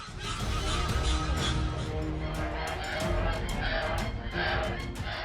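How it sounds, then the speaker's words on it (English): Two geese honk sharply and repeatedly while rushing a baboon, their harsh calls loud and close over a busy, noisy background. "two geese suddenly rush toward a baboon, their calls ringing sharply"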